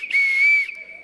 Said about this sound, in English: Let me blow my whistle.